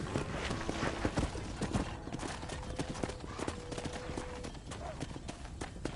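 Horse hooves clip-clop steadily on a ranch approach in Red Dead Redemption, a fairly quiet, even patter of close footfalls with faint tonal game sounds and low chatter in the background.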